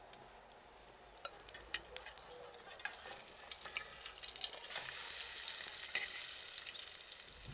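Medieval crispelli, herb and flower pancakes, frying in a pan with a steady crackling sizzle that grows louder and denser toward the end, punctuated by small pops, with no voices.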